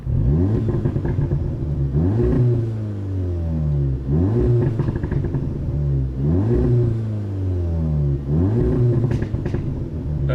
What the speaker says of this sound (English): we'll give it a couple of revs and you see what I mean. Pops and bang, stock.